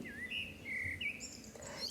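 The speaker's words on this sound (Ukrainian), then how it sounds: "Ой, да це ж пташенятка у гнізді." Baby birds in a nest give thin, high chirps and short tweets in a few quick bursts, moderately close over a soft background hiss.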